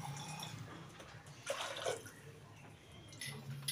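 Water, about one and a half glasses, poured into a pot of dal with ghee for dal tadka: quiet splashing bursts that pause and return, close and alone.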